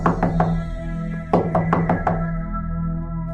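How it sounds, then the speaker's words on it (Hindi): Knocking on a door at night, a quick group of three raps, a pause, then a sharper run of about five knocks, loud and close with no voices. "कि तभी दरवाजा खटखटाने की आवाज आती है।"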